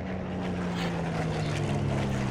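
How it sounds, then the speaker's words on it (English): Spitfire aircraft engine in Plane Mechanic Simulator, a continuous loud droning roar with a steady low hum, sustained and close throughout. "There's the roar of the Spitfires at last."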